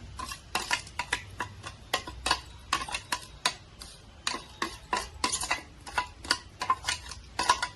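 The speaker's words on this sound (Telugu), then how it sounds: "నూగులు అవన్నీ ధనియాలు వేయించాను కదా అవి వేద్దాం మళ్ళీ అవి కూడా దంచేసేద్దాం" Roasted sesame and coriander seeds pounded by hand in a mortar for bitter gourd spice powder, giving a steady run of sharp, close thuds and clinks, about two to three strikes a second, with no talking.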